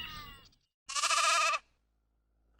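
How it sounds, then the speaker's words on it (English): A sheep bleats once, a clear wavering call lasting about half a second and heard alone, with a faint tail of another sound before it and a brief onset at the very end. "Sheep,"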